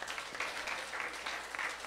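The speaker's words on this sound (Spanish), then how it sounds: "les invito a que den un aplauso a nuestro hermano Quetza" A church congregation applauds during a Spanish-language service, a fairly steady patter of clapping hands in the room that rises and falls slightly and carries on alone.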